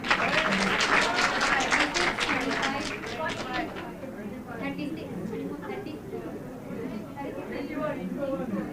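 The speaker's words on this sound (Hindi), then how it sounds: "ताली बजाओ उसके लिए।" Participants in an online Zoom meeting of the Karnataka State Board of Wakf clap for a student: a brief burst of applause that soon fades under background voices and chatter.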